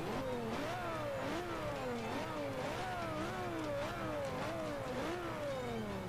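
In Forza Motorsport 5, a car fitted with a Lamborghini Gallardo engine revs repeatedly, its loud tone sweeping up and down in a steady rhythm of rising and falling pitches, continuous and close.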